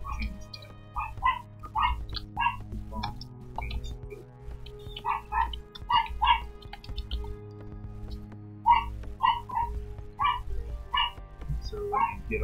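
Dogs bark and whimper in repeated short yips and cries, fairly close, over a steady low hum, with bursts spread across the whole stretch.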